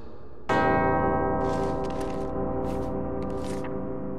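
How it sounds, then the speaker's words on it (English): Two bells ring out together in the video game Uncharted: Drake's Fortune, a single loud struck onset followed by a long sustained, harmonically rich hum that slowly fades while faint clicks sound over it. "Two bells resound in perfect harmony."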